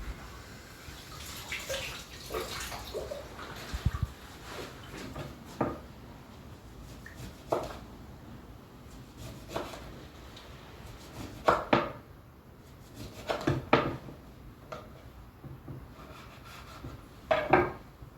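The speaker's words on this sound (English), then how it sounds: "I'll rinse my lemon, make slices to put on top of my fish." A lemon is rinsed under running kitchen tap water and then sliced on a board for topping fish, with a continuous watery wash followed by scattered knife cuts and knocks, near and fairly quiet.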